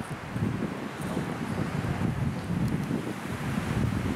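Steady wind roars through a forest, a loud, continuous broadband rush with gusty swells and no talk.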